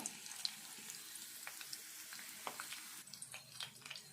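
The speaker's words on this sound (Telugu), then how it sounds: "జీలకర్ర ఆవాలు ఇప్పుడు ఉల్లిపాయ వేసుకుందాము" Chopped onion dropped into hot oil with cumin and mustard seeds, a soft, steady sizzle with scattered crackles and pops, faint and close, with no talking.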